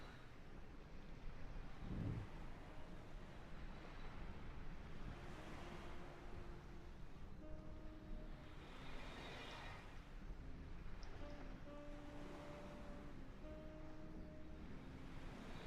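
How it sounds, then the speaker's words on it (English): Sea waves near the airport in Kingston, Jamaica, a steady rushing wash of surf with some wind noise, moderately loud, broken by faint tonal hums. "Kind of difficult to know because you've got these waves going as well."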